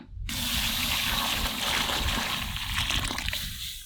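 Continuous splashing pour of mutton cooking water into a pot, steady and close for several seconds, with a brief pause near the start.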